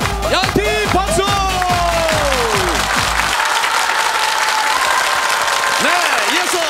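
A studio audience on a Korean TV game show claps and cheers, loud and crowded, while a bright musical jingle plays over it for the first half.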